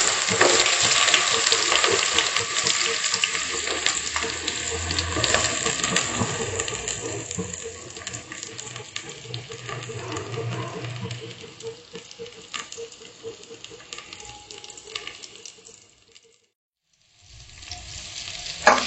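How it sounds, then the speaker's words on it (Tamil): Finely chopped onions sizzle and sauté in a pan with mustard seeds, cumin and fennel, giving a steady close frying hiss with light stirring sounds. The sizzle fades briefly near the end, then returns. "வெங்காயம் நல்லா வதங்கணும்."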